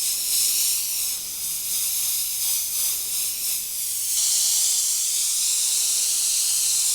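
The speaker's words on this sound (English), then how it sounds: "angle your airbrush down, pulling back on the trigger to create the spatters" An airbrush angled down hisses loudly and continuously up close as it spatters white paint onto a granite-effect skull, the sputtering pulsing briefly before settling into a steady rush.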